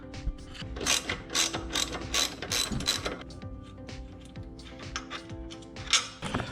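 Ratcheting clicks and mechanical clatter as a chain tensioner is removed from a Mega Moto 80/105 minibike during a swingarm install, with repeated close bursts of pawl ticking in an uneven rhythm.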